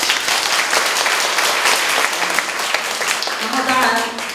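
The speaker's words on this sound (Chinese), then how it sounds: "我们要掌声给教育处。" An audience at a school wish-fulfilment event in Taitung gives loud, sustained applause that tapers off near the end as a voice starts to speak.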